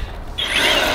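An EGO 56V multi-tool with a bristle brush attachment spins up partway through, a close whirring, rasping mechanical sweep that rises and holds steady after a short quiet start.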